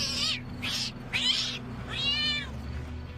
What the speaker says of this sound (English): After the tantrum, the spicy kitten was put in a carrier and taken to safety.